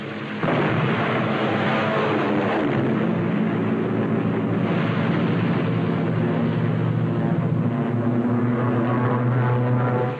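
WWII fighter airplane engine roaring during a strafing run over enemy boats and supply ships, a loud continuous drone with rumbling blasts and no speech.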